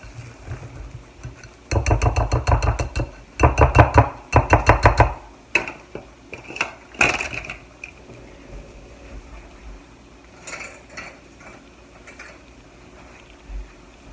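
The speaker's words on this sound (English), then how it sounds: "Mix this together. It is kind of thick" Thick double chocolate donut batter mixed in a bowl, with bursts of wet, sticky stirring and knocking in two loud stretches, then quieter scattered scrapes and taps.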